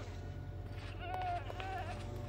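Goats in the video game Minecraft let out a couple of short, thin bleats over a steady low game background hum.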